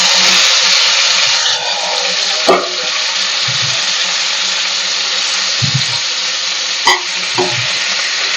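Onion, tomatoes, garlic and cumin frying in a kadai make a steady, close hiss, with a few soft knocks and stirring thumps scattered through it and no talking.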